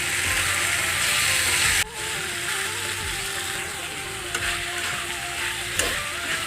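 Pigeon meat and spices fry in a hot pan with a loud, continuous sizzle, while a utensil stirs and scrapes with a few sharp clicks.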